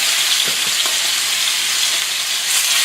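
Elk steak sizzles in a hot pot, a dense steady frying hiss filling the whole stretch at close range, with a few faint low knocks early on and no talking.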